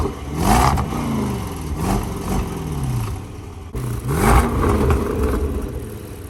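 Late-2019 Range Rover SVR V8 with exhaust valves open revs repeatedly, several rising and falling throttle blips in two bursts, loud and close with no talk.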